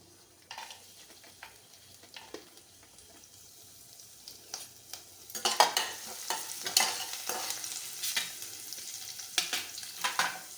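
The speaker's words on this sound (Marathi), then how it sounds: "तेल गरम झालं की जिरं मोहरी टाकायची, नंतर घालायचं आहे लसूण आणि शेंगदाणे" Cumin, mustard seeds, garlic and peanuts frying in hot oil for Khandeshi khichdi, quiet at first, then louder, busy crackling and stirring scrapes that keep going to the end.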